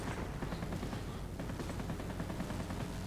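Continuous aircraft machine-gun fire in the World of Warplanes video game during a dogfight near a Hurricane and Spitfire Mk. Ia, a steady loud rattle of rapid shots lasting throughout with no pauses.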